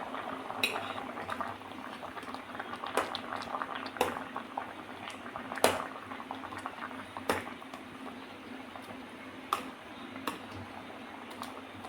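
Stuffed squid simmering in a covered pot, a soft steady bubbling boil with occasional sharp clinks of lid and utensils, no voices.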